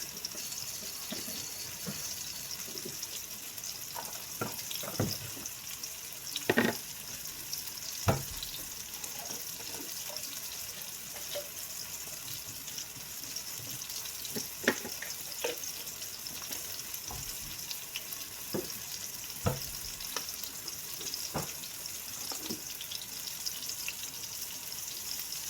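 Scrambled egg seasoned with chicken powder frying in a pan gives a steady, soft sizzle and hiss, broken by scattered clicks and scrapes from stirring.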